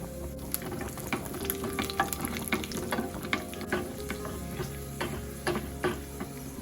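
Cashews and raisins fry in a pan for payasam, crackling in a steady, close sizzle dotted with small pops and the occasional tick of stirring.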